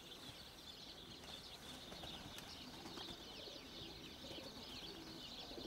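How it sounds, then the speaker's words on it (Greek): A flock of this year's young pigeons flies in overhead: soft, faint cooing and scattered wing flapping over a steady outdoor background, with no talking. "Ο φίλος μου Θανάσης κοιτάει ψηλά και ήρθαν όλα τα περιστέρια"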